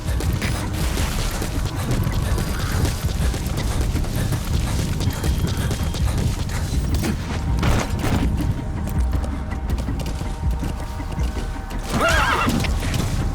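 A horse whinnies and hooves clip-clop amid loud, busy game-like background noise with thuds and rumbles, no talking, in Metal Gear Solid V: The Phantom Pain.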